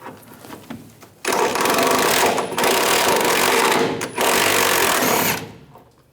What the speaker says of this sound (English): take these bolts out.